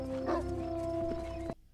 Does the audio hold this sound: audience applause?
no